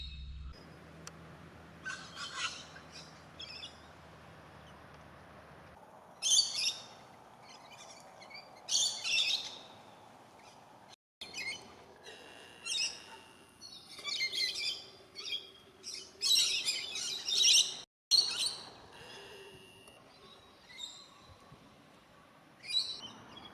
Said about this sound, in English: Perhaps it's not a kookaburra, perhaps it's another type of kingfisher